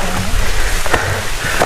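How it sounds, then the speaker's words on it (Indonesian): Rain falls steadily on a hiking trail up Mount Tampomas, a close, dense patter with a few sharper drops and taps standing out. "Kita ternyata terpa hujan guys."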